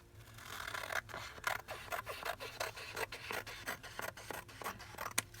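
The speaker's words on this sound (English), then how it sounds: "let's go ahead and we'll cut off the edge." Scissors cut through the edge of a paper junk journal page, a run of close, crisp snips and rasping scrapes at an uneven pace, with no talking.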